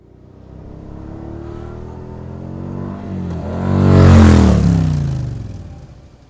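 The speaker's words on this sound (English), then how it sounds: "Motorcycles, portable vehicles powered by internal combustion engines." A motorcycle engine revs up from a low idle into a loud, rising roar that peaks and then eases back down, heard alone and close.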